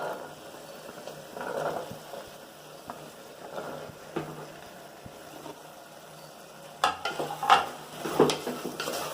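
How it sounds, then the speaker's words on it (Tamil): Vegetables being stirred into a biryani pan with yogurt, with a soft sizzle under scraping and clinks of a ladle against the metal, the clatter growing louder toward the end. "இப்போது இந்த ஸ்டேஜில் நம்ம காயெல்லாம் ஆட் பண்ணிக்கலாம்"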